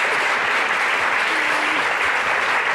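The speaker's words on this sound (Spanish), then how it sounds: "quiero que demos un fuerte aplauso a nuestra invitada de hoy" A studio audience gives a loud, sustained round of applause for guest Beatriz Luengo on a Spanish television show, continuous and even throughout with no speech over it.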